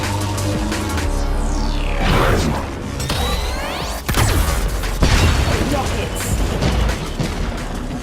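Rockets fire and explode in Wipeout Omega Collection, played in PSVR, with loud booms, whooshing sweeps and crashing impacts layered over a driving game soundtrack, continuous and intense throughout.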